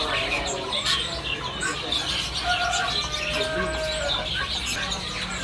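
Caged sooty-headed bulbuls at a bird kiosk chirp and whistle in short, bright calls over steady background noise, with other birds and a voice faintly mixed in.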